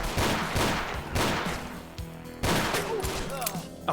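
Repeated broadband shots ring out from the Ashes 2063 video game during sniping, three loud blasts spaced about a second apart with reverberant tails, followed by lighter mechanical clicks and some mixed speech-like game audio.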